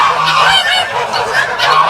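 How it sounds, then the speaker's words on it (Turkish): Geese honk loudly and close together, a dense overlapping chorus of nasal calls repeating without a break. "Kazlar böyle geldiler. Benden yem bekliyorlar."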